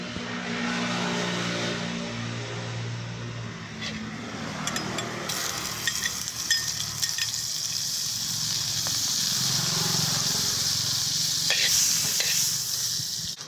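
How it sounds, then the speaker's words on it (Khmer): Butter melting and sizzling in a hot pan, a close hissing fry that swells after a few seconds with occasional stirring scrapes, no talking. "ទុកឲ្យខ្ទះក្តៅបន្តិចរួចហើយយើងចាក់ប៊ឺចូល"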